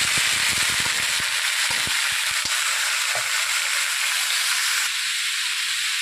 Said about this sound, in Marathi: आता तेल छान तापलेलं आहे, त्यामध्ये या स्वच्छ धुतलेले व्हेजिटेबल आपण टाकून घेऊया.